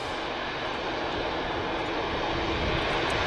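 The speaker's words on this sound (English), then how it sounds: "Taxiing out is the Etihad Airways Boeing 787-10 Dreamliner." An Etihad Airways Boeing 787-10 Dreamliner taxis at Manchester Airport, its jet engines giving a steady, broadband roar that holds level and fairly loud throughout, with no speech over it.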